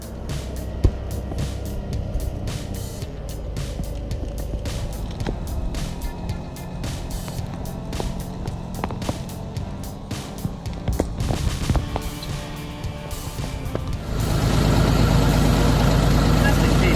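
A small tractor's engine runs steadily while straining to pull out a tree stump through a high-ratio mechanical advantage rig, with clicks and knocks throughout and the engine note growing louder and rougher near the end.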